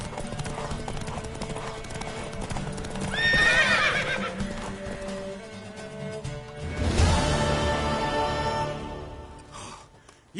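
A horse whinnies loudly twice in The Witcher 3: Wild Hunt, rising and shaking, over a steady clip-clop of hooves and a low background hum.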